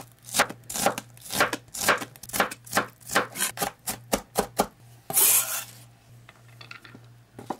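A knife dices purple shallots into small cubes on a cutting board, a quick run of sharp, close chopping strikes that stops abruptly and leaves quieter, scattered taps.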